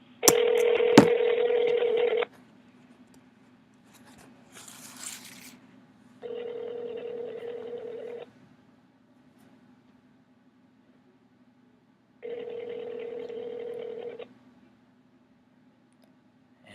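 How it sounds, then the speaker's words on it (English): Telephone ringing on a call, three loud electronic ring bursts of about two seconds each separated by long pauses, with a brief click and faint noise between the first two rings. "Answer the phone, Pulaski"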